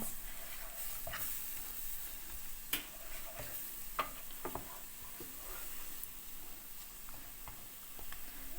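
Flour halva is stirred in a pan, giving a soft, continuous scraping and faint sizzle with scattered light clicks of the spoon against the pan, close and fairly quiet, with no talking.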